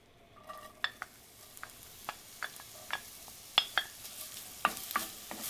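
Onion and jalapeño frying in a little hot oil in a pan crackle and spit in sharp, scattered pops over a soft background hiss, with a spoon scraping now and then; no voices.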